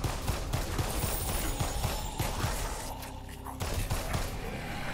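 Rapid machine-gun fire in the VR zombie shooter Exterminate, a continuous stream of punchy shots in quick rhythm with a brief pause midway, loud and dense throughout.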